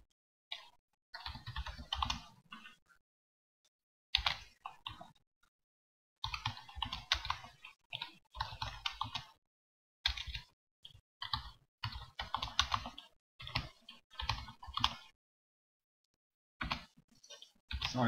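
Computer keyboard typing out HTML code in a text file, steady close key clatter in bursts separated by short silent pauses, with no talking.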